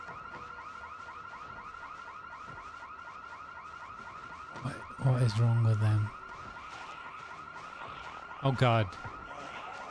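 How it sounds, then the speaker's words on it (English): A car alarm blares in the video game Project Zomboid as a steady, rhythmic electronic whooping pulse, with two louder bursts cutting in and a voice briefly exclaiming over it. "They've set off another alarm."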